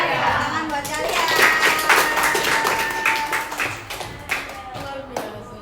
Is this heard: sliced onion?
no